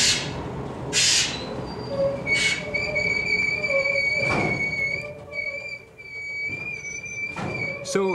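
An old red Glasgow Underground train from 1977 runs through the subway, its rumble overlaid with sustained high-pitched wheel squeals and whining tones that rise and fade as the carriages move along the track.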